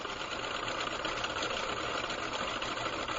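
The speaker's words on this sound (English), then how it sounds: "let it spin down" A 121 AC motor winds down after its power is cut, giving a steady, fairly loud whirring hum with a faint high whine that runs evenly through the whole stretch with no talk.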